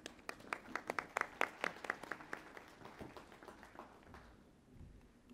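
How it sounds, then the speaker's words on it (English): A conference audience claps for a few seconds, the sharp claps dense at first and then thinning out as the applause dies away. "Please give her a round of applause."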